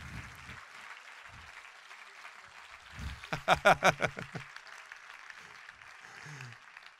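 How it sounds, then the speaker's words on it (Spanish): A short burst of hand clapping at a church sermon rises from a quiet room and fades within about a second, with a few voices murmuring around it. "den un aplauso al Señor"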